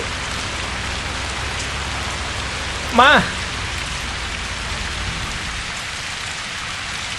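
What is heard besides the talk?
rain falling in the video game Keep Driving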